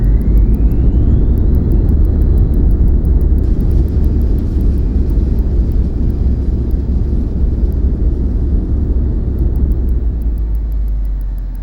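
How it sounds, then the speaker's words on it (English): A Learjet 35A in a flight simulator rolls out after touchdown with thrust reversers deployed, giving a loud, steady engine roar and rumble that gradually fades near the end. "Spoilers, reversers."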